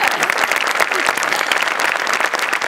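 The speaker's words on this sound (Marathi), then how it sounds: "अफलातून परफॉर्मन्स, जोरदार टाळ्या झाल्याच पाहिजे." A live audience at a Marathi comedy show breaks into loud, sustained applause, dense clapping filling the room evenly for the whole stretch.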